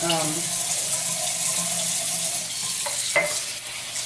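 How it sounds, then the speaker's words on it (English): Hands rinsed under a running kitchen tap after henna hair dye, a steady close wash of water with splashing throughout and no talk. "Wash off the hands."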